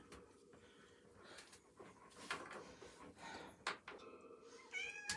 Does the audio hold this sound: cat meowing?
yes